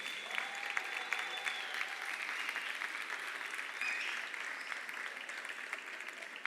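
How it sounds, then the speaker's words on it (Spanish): Steady applause from a crowd for the Arrels quartet at the Nit del Llagostí in Vinaròs, many hands clapping evenly and continuously at moderate volume, with a brief tone sounding in the background. "així que un fort aplaudiment per a elles."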